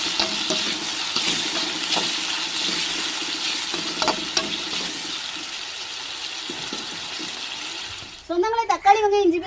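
Steady sizzling of onions, tomato and ginger paste frying in a pan with occasional stirring scrapes, continuous for several seconds before a voice begins talking near the end.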